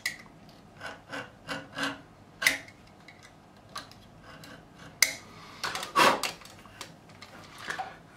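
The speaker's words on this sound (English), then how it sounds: "I'm just going to, again, cut into where the lacquer is" Knife or blade scraping and cutting through lacquer around the nut of a Fender Strat with two humbuckers, a series of short rasping strokes at close range with no talk.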